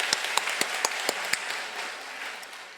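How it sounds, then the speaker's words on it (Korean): Church congregation at a worship service applauding a special song team, a few loud, sharp claps ringing out close by at first, then softening into a quieter, blended patter of applause that fades. "특송을 해주신 우리 삐울라 팀에게 감사의 큰 박수를 올려드리겠습니다"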